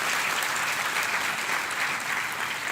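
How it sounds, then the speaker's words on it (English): Audience at a college Teacher's Day and foundation day celebration in Pune gives a long round of applause for award recipients, an even, continuous wash of clapping with no talk over it. "let's give a big round of applause to all the award recipients."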